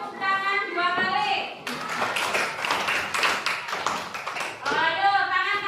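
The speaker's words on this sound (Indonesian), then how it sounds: "tepuk tangan 2 kali" A classroom of schoolchildren claps their hands, a burst of sharp, close hand claps in the middle framed by an adult voice speaking before and after.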